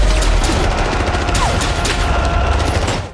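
Loud, sustained burst of automatic gunfire in a film action scene, dense rapid shots packed together for about three seconds with booming low end, no talking.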